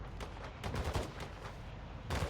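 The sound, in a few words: AI gunfire in a video game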